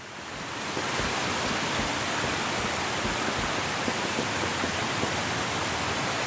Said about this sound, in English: it's like pushing you to be very aware of the waterfall, of the trickle sound